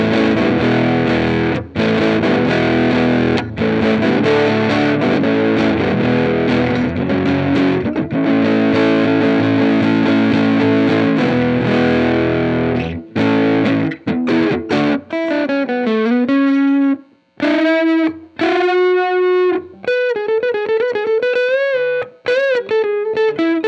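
Electric guitar runs through a Rude Tech Ain't Afraid fuzz pedal, with thick sustained distorted chords and riffs, then gapped single notes bending and wavering toward the end, loud and close, no speech.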